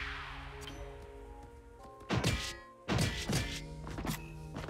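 A bomb goes off in the game Rotwood, giving two heavy, thudding blasts about a second apart over a steady musical backdrop, each landing hard and then decaying.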